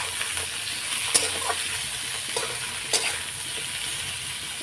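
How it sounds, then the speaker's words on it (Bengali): Chopped taro stolons and potatoes fry in a hot pan: a steady, fairly close sizzle with a few light clicks of stirring, and no talking. "এখন আমি লতি আর আলুটা দিয়ে দেবো।"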